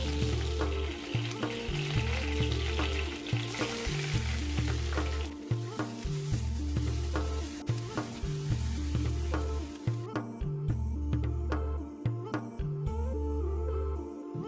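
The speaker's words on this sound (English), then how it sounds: "Add the curry leaves and chopped onion and saute until the onion softens and turns slightly" Curry leaves and chopped onion sauté in hot oil, a constant loud sizzle broken by repeated stirring scrapes in an uneven rhythm, with no voices.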